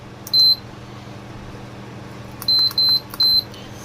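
A Prestige PIC mini induction cooktop beeps as it switches on: one short electronic beep, then a pause and three quick beeps in a row over faint background hum.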